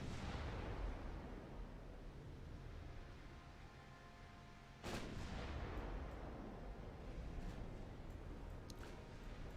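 Heavy naval gunfire from 18-inch quad turrets in Ultimate Admiral Dreadnoughts, a deep booming blast that rumbles and decays, followed by a second sharp report about halfway through over a constant low roar.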